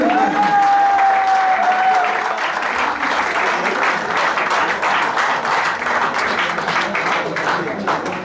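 An audience at a Hazara Student Federation event at AJK University applauds loudly as a speaker is called to the stage, with dense sustained clapping, crowd murmur and a brief microphone whine at the start.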